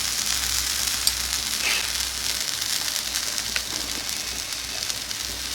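Eggplant coated in masala frying in a pan for a vegetable fry, giving a steady, close sizzle with faint crackles and an occasional light clink, with no voices.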